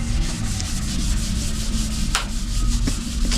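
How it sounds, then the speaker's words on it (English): A brush drawn steadily back and forth across the wooden surface of a live edge coffee table while finish goes on, a continuous close scratchy rubbing with faint rhythmic strokes and no talking. "I lightly brush the ends, lightly brush around the radius on the corner."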